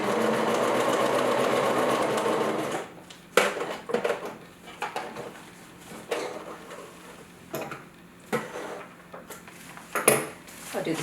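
A sewing machine stitches a seam on a fabric yoga bolster, first running in a fast continuous whir, then in short stop-start bursts of rapid needle ticking with small clicks and pauses between.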